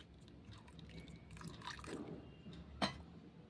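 Boiled tomatoes are stirred and pressed with a spoon to squeeze out their juice, giving soft, wet squishing and scraping at low volume, with one sharper tap near the end.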